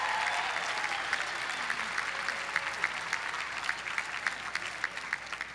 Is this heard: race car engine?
no